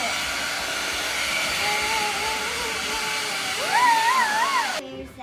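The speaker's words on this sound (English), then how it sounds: "We can fluff it up by using the hair dryer." A hair dryer blows on a toy puppy's fur, a loud steady whooshing hum with shifting pitch that cuts off abruptly near the end, close up.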